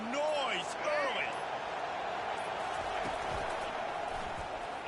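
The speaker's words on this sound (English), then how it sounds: "This crowd bringing the energy and noise early." Stadium crowd noise in the college football video game NCAA 25: a continuous wash of crowd roar, slightly swelling at the start, with a commentator's voice over it.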